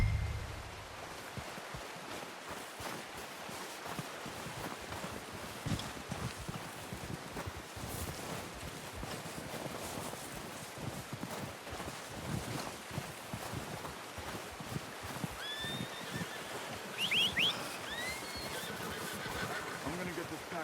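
Outdoor ambience in Red Dead Redemption 2 with wind and soft rustling, a horse's whinny and snorts rising near the end, faint hoof movement throughout.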